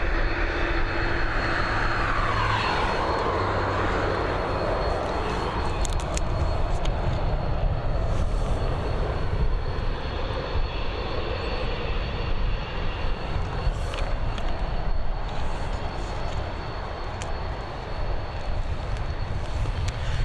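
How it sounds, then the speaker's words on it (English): A jet airliner departs Dublin Airport, its engine roar broad and steady for the whole stretch, loud and continuous with a slow rise and fall in the tone and no talking. "It sounds like we're getting the 3:30 departure."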